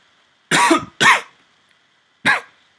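Three sharp, close coughs from a game commentator during a live Dota match broadcast, two in quick succession and a third after a short pause, with near silence between them.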